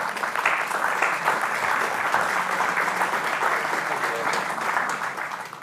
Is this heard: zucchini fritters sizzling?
no